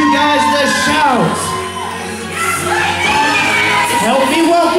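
A wedding reception crowd whoops, shouts and cheers loudly and continuously, with voices rising and falling through the noisy room.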